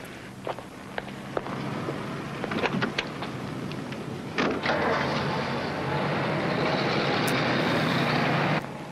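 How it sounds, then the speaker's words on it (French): A car is driven onto a mechanic's inspection pit in a garage, a loud rumbling engine that swells and holds, with scattered clunks and knocks near the start. "Je vais mettre votre voiture sur la fosse."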